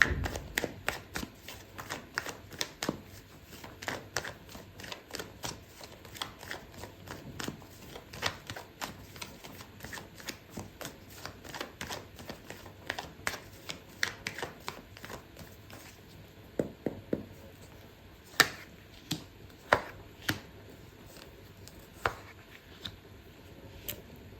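Tarot cards are shuffled by hand in a quiet room, giving soft repeated riffles and sharp clicking taps that continue at an uneven rhythm throughout.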